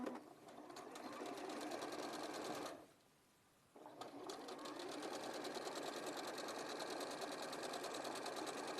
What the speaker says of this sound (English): So I'll sew that all the way around.